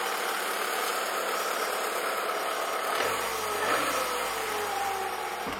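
A Peugeot 306 engine idles steadily, a low even hum with a faint knocking vibration, close and moderately quiet, with no voices over it.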